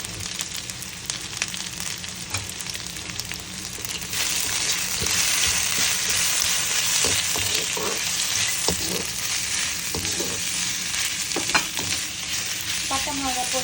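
Chicken pieces frying in a pan with cinnamon and black pepper for a pepper fry, a close steady sizzle that grows louder partway through, broken by occasional stirring scrapes.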